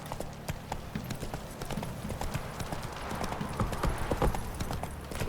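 Horse hooves gallop in a steady, continuous clip-clop rhythm through the open world of The Witcher 3, loud and close with ambient game sound and a brief voice beneath.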